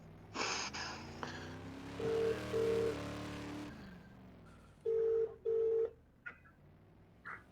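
An outgoing telephone call ringing out, with pairs of ring tones repeating at regular intervals and a faint voice and background noise between them.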